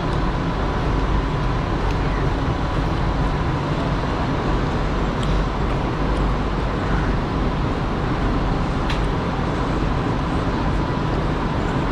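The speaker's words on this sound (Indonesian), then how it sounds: "Disinilah suasana stesen LRT Laluan Kelana Jaya Pasar Seni." Steady, dense rumble of the busy Pasar Seni LRT station on the Kelana Jaya Line in Malaysia: continuous low machinery hum and crowd murmur with occasional faint clicks, no clear speech.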